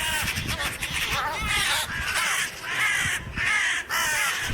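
A crow caws repeatedly and loudly while mobbing a sparrowhawk that had attacked a jackdaw, harsh calls coming in quick overlapping bursts over a busy outdoor background.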